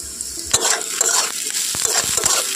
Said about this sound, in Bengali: এখন আবারও একটু ভালোভাবে তেলের মধ্যে ভেজে নিয়েছি।